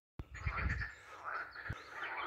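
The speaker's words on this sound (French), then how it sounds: "j'ai jamais entendu des grenouilles ou des crapauds faire autant de bruit" Frogs or toads croaking loudly in woodland along the Chemin d'Arles between Montarnaud and Saint-Guilhem-le-Désert, a dense overlapping chorus of raspy calls close by, continuous after a sudden start.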